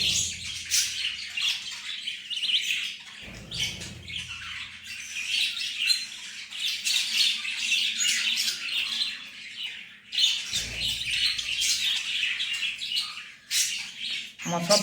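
A collection of caged pet birds chirps and squawks constantly, a dense, busy chorus of sharp calls with brief low thumps in between.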